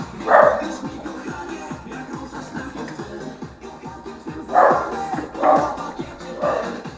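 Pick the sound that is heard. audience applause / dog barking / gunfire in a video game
dog barking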